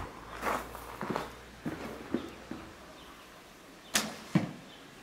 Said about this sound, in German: Ja, die Pfeile hören sich gut an,